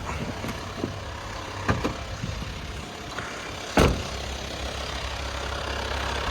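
A Volkswagen Transporter TDI diesel van engine idles steadily at close range, a continuous low rumble broken by a few brief clicks and a sharp knock partway through.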